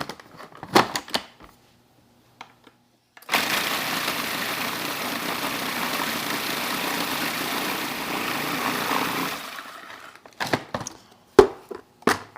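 Food processor whirring through cheesecake ingredients, a steady motor roar lasting about six seconds, bracketed by clattering lid and bowl handling before and after.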